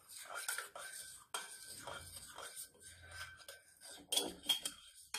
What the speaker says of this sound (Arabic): خلطوا ما كلشي يندمجوا مزيان، يعني داك الزيت والحليب الياغورت